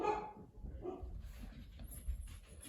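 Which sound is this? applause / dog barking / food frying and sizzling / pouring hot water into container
dog barking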